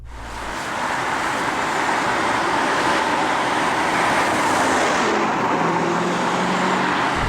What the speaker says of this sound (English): Listen to it. Oh, it's burbling.